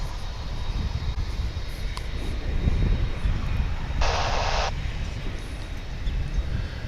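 UPS tri-jet cargo aircraft at DFW airport, a steady roaring engine drone that swells slightly midway, heard from a distance with no talking.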